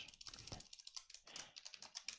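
Rapid typing on a computer keyboard while writing CSS code, with irregular bursts of close, crisp key clicks and short pauses, heard alone without speech.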